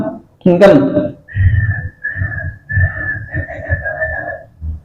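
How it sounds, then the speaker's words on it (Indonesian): Clear human whistling: a short burst, then a long run of sustained whistled notes in several phrases, with low murmuring sounds underneath. "Coba kamu kalau bisa bersiul dengan mulut terbuka, mangap, atau mulut mingkem."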